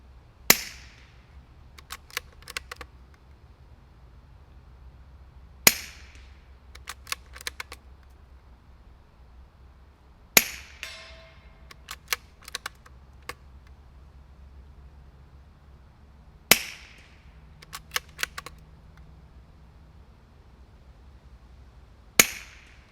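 Suppressed shots from a Savage FVSR .22 rifle fitted with an Anechox 223 suppressor: five sharp, quiet reports spaced about five seconds apart, each followed by faint clicks of the bolt being cycled, with no talking.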